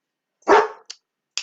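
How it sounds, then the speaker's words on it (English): A dog gives one loud, close bark followed by two shorter, fainter yips, with no voices around. "we have the dog barking like crazy"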